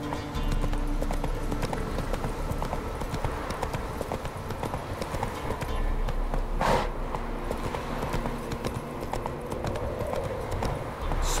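Rhythmic clip-clop hoofbeats from the horse Roach run steadily and continuously in Witcher 3 gameplay, close and moderately loud, with no talk.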